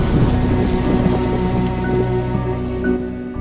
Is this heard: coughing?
no